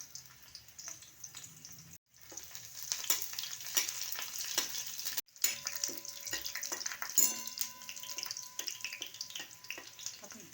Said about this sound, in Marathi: कढईमध्ये तेल तापले चांगलं त्याच्यामध्ये लसणाच्या चार पाच पाकळ्या टेचून घालूया